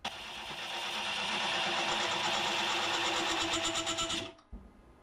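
A carbide cutter hollows the end grain of a wooden bowl, giving a loud, steady, dense scraping whir for about four seconds before it cuts off abruptly, followed by a brief faint clatter.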